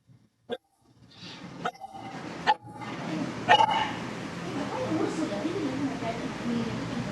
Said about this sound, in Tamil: எங்க வீட்ல ஒரு நாய்க்குட்டி வளர்க்குறது கத்திக்கிட்டே இருக்கு